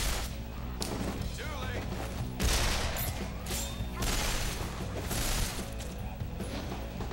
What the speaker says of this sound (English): I mean, he's definitely shooting the other guy.